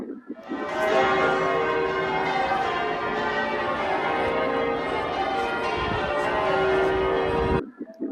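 A big, deep cathedral bell at St Paul's Cathedral in London rings out loudly with a rich, sustained hum that rolls on and fades slowly.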